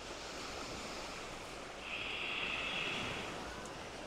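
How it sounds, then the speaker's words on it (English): Ocean waves wash onto a sandy island beach in a steady, soft surf hiss with a gentle swell midway, heard alone and at moderate distance. "Hearing the beautiful waves making the sound as it meets the sands"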